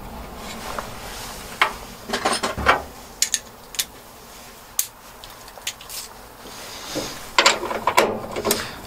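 Hardware on a Jeep seat is tightened with a ratchet-type tool. Faint mechanical clicks and short ratcheting bursts come at irregular intervals, with quiet pauses between them.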